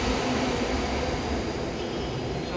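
An LRT light rail train bound for Antipolo rumbles along in a steady, loud, continuous roar, heard from inside with no speech.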